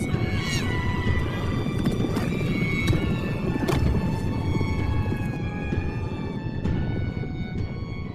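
Hooves pound in a fantasy story sound effect of donkeys running, steady clip-clop with animal braying and neighing calls rising above a busy rumbling background.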